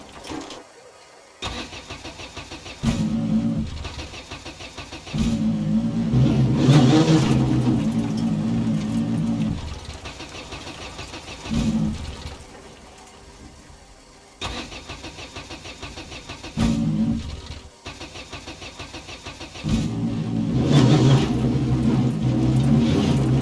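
Rally car engine in the Mastercup Rally video game, running down on power with its engine warning light on, loud and close, revving and easing off in repeated surges with short lulls between.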